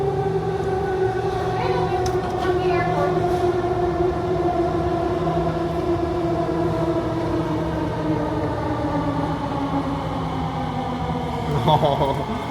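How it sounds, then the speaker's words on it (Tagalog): A loud, close train gives a sustained whining drone with sliding, squealing tones as it rolls into a station in Singapore. "Feeling ko may parating na tren."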